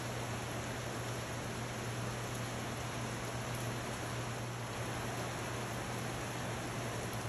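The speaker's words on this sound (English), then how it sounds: "It was just a really heavy downpour for us." Heavy rain from tropical storm Hillary pours down as a dense, constant hiss that holds steady throughout, loud and unbroken with no voices.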